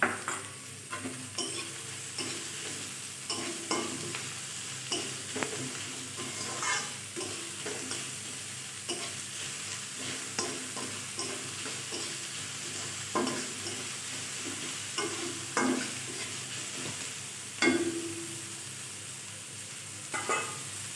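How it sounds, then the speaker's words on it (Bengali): Onions fry in a pan with a steady soft sizzle while a utensil stirs and scrapes at intervals, producing repeated clicks and scuffs at close range. "এখন পেঁয়াজটা ভেজে নেব"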